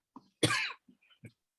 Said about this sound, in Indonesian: Aduh, mohon maaf saya batuk.